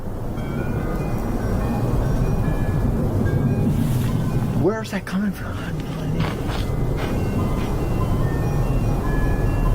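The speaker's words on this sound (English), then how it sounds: "That's ice cream truck music" Ice cream truck music drifts faintly from somewhere far off, a thin tinkling tune barely rising above steady wind and rushing outdoor noise, while someone briefly speaks up close partway through.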